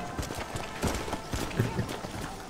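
Quick clip-clop of horse hooves running in Red Dead Redemption, steady and close, with faint game background sounds around it.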